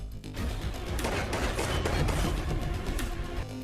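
Loud, dense bursts of gunfire crackle continuously, with a few sharper shots standing out from the barrage.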